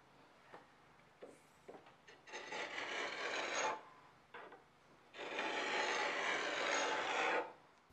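A steel sword blade being worked by hand to cut a tapered groove gives quiet rasping strokes, with short scrapes at first and then two long, even passes of steady filing.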